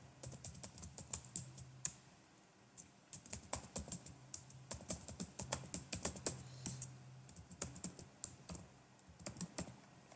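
Fingers tap out an ID and password on a computer keyboard to log back in, a quiet, close run of irregular key clicks in quick bursts with short pauses between.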